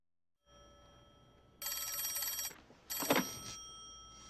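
A public telephone rings in a film scene, sounding as two bursts of bright electronic ringing separated by a short gap, with quiet background noise beforehand and no talk.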